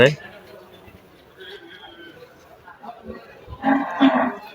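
Farm-raised cattle moo at a large cattle market in Sylhet city, near the Temukhi bypass point. A low call rises near the end amid market bustle, and people talk throughout.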